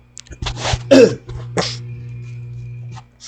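Several short, sharp coughs and a throat clearing in quick succession from a woman who has a cold, close and loud, with quiet room hum in between.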